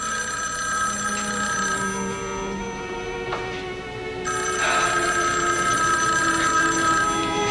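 A telephone in a 1981 soap opera scene rings loudly and insistently, with a brief pause midway before the bell resumes, close and dominant with no talk over it.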